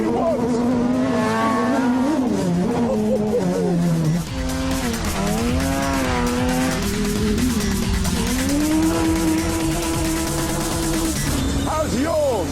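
Small off-road buggy with Brembo disc brakes and a limited-slip differential, its engine revving and whining loudly in rising and falling sweeps close by, with tire noise and voices mixed in throughout.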